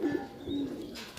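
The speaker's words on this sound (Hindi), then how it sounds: "ये कलमे कबूतर है" Kalma pigeons in a fancy loft give soft, low cooing calls, a few throaty coos close by against a quiet background, with one brighter call near the end.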